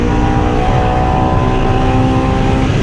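Honda S2000 AP2 track car engine pulling hard in fifth gear, a loud, steady high-revving drone with strong harmonics, close up from inside the cabin, continuous throughout with no talk.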